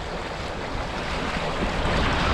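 Waves from passing large ships slap against a sailboat anchored in the Saint Lawrence River, a steady dense wash of water and wind noise that stays close and fairly loud throughout.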